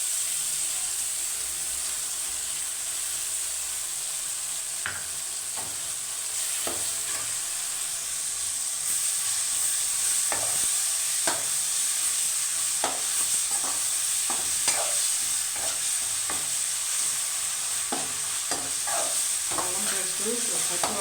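Ginger paste frying in a pan for a sea snail and drumstick masala curry, a steady hiss of hot oil throughout with intermittent clicks of a spoon stirring and scraping the pan.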